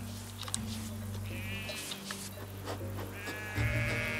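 Sheep bleat in a flock in the Pyrenees, several wavering calls rising over a steady low hum, moderately near and fairly faint.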